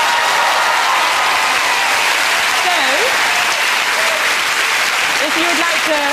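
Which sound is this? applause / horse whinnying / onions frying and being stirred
applause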